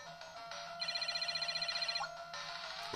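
Bright, chiptune-style PC Engine game music from Magical Chase, with a rapid trilling electronic melody and faint background tones, fairly quiet, with no talking.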